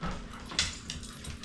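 A dog whimpers in short, high, whiny bursts close by over a low background rumble, brief and fairly quiet.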